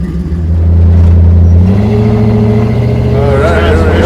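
A vintage, fully optioned car engine rumbles loudly at close range, rising as it revs and pulls away, with a steady low drone throughout and a voice faintly present.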